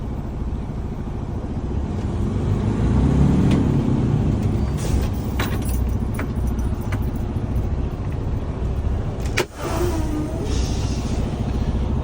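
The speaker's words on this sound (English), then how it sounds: "I'm going to put the truck in low gear. I'm going to pull forward at about 5 miles an hour" A truck in low gear pulls forward slowly at about 5 miles an hour during an air brake test, its engine a steady low rumble with a sharp brief hiss of air brakes partway through.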